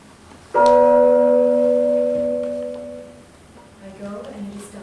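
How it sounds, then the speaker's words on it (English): A single church-style bell tolls once during a stage performance of Macbeth, a loud clear strike whose ringing tone hangs and slowly fades over about three seconds before other faint sounds follow. "The bell invites me."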